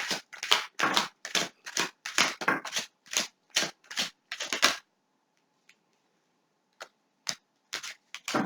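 Tarot cards are riffled and shuffled in a rapid run of close, crisp snapping bursts, then a pause and a few scattered card taps.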